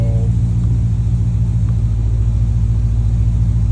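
A Dodge Challenger ScatPack Widebody with headers on E85 fuel idles on a chassis dyno, a loud, steady low rumble holding constant throughout with no revving.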